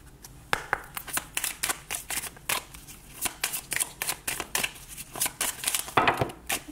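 A deck of tarot cards is shuffled by hand in quick, crisp riffling bursts, each flurry of rapid flicks followed by short pauses, close and clear with no talk.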